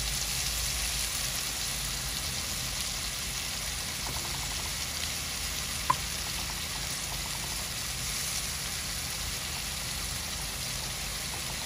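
Potato fritters frying in oil in an old, worn pan give a quiet, steady sizzle that hisses evenly throughout, with one faint click partway through.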